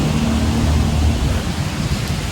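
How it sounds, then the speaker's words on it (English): Heavy pouring rain from a violent storm hisses steadily and loudly all around, with a low rumble of thunder underneath, and no voices. "it is pouring rain like I've never seen before"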